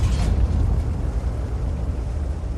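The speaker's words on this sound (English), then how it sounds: "there was an explosion in the air there" An explosion in the air during a tier 8 tank battle game with an S-51, heard as a sudden loud burst at the start that settles into a continuous low rumble.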